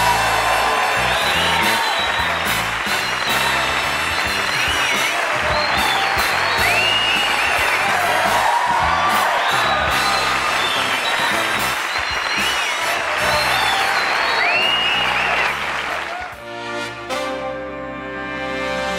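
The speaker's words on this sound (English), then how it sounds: "I'm humbled by that applause." A television studio audience at a 1986 Johnny Carson talk show breaks into loud, sustained applause with whoops and cheers that roll on for about fifteen seconds before fading out.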